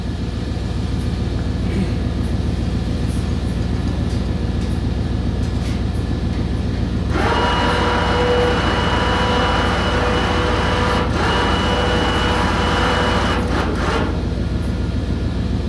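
A Harbor Freight 2500 lb ATV winch pulls in slack, a loud steady motor whine joining partway through over a constant low engine rumble, with faint clicks near the end.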